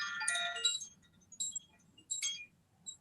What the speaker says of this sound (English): Even something as simple as these little chimes